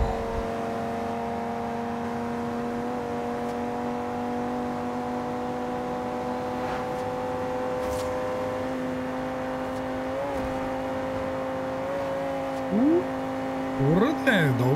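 An Audi TT RS in the racing game Forza Horizon 2 accelerates with a steady, sustained engine drone that rises gradually, a brief shift and pitch swoops near the end.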